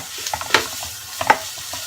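Two short scraping clinks of a spoon stirring a salted turkey dish in a pot, close and separated by a quiet pause, with no talking.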